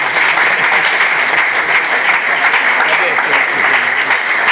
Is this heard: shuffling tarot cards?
no